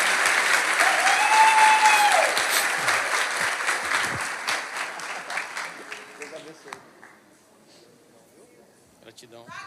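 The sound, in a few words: congregation applause in church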